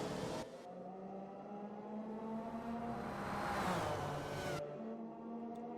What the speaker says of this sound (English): can audibly hear Iris's engine